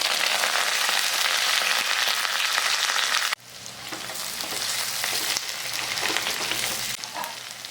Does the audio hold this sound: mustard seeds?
yes